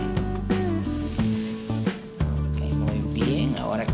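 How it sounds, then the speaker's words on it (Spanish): Red and yellow peppers are sautéed in a pan for a Peruvian fish sudado, giving a loud, close sizzle with a faint scrape of stirring, partly under background music with sustained tones. "También ponemos el pimiento rojo, el pimiento amarillo y salteamos un poco para que vaya cocinando."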